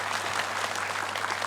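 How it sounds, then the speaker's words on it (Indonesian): A studio audience at a televised religious talk show breaks into brisk, dense applause, a short loud burst of clapping that fills the room with no voices over it. "Cakep, tepuk tangan."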